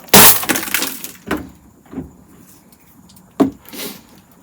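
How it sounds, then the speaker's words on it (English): A metal file works the worn edge of a snow shovel, heard as a few sharp, loud scraping strokes spaced irregularly, with nobody speaking. "now I'm doing a little bit of filing of that edge just to get it sharpened a bit"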